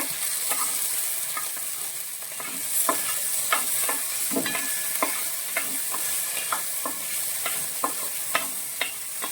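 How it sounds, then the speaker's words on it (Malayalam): Chopped banana pieces frying in a pan for a banana sweet, with a steady sizzle under repeated spoon scrapes and stirs knocking against the pan at a loose, regular rhythm. "പഴം ഇട്ട് നന്നായിട്ട് വേവിച്ചെടുക്കണം"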